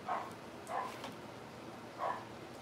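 Dogs bark three times, faint and somewhat distant, in short separate bursts over a quiet background with no talk.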